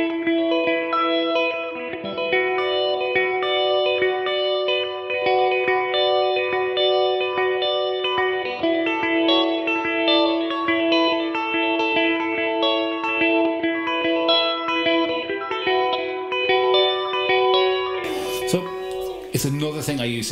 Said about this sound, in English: So I have a phaser here and it goes...